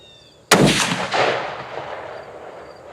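A .30-06 rifle fires one sharp, loud shot at a silhouette target outdoors, followed by a long rolling echo that fades over a few seconds.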